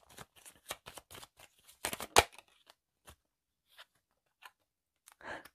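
A deck of tarot cards being shuffled by hand in crisp riffling bursts, close and quiet, with sparser soft card taps and rustles trailing off toward the end, and no speech.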